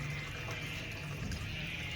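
Water pours steadily into a pot for making sugar syrup, a continuous, close splashing rush that lasts the whole time with no talk over it.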